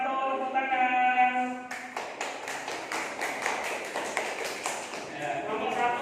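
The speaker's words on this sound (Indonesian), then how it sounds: "Bagus, kelompok 1 tepuk tangan." A classroom group claps in a quick, fairly loud burst lasting a few seconds, with a teacher's voice before and after the clapping.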